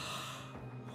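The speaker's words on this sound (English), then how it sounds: "Stop yawning." A character in the video game Warframe lets out a short, breathy yawn-like gasp, close and soft, heard alone without talk.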